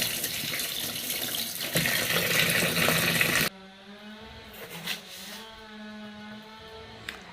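Bitter gourd rinsed under a running kitchen tap: a loud, steady rush of water for a few seconds, then a softer trickle with light splashing and handling as the stream eases.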